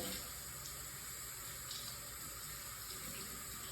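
Hot water runs steadily from a tap into a sink, a constant hissing splash with no breaks and no voices.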